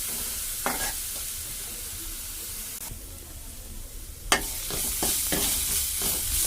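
Coarsely ground onions fry in a pan with a continuous sizzle and hiss. Stirring strokes and clinks of a utensil are scattered through it, and one sharp scrape comes near the end.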